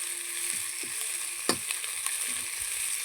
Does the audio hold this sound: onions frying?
yes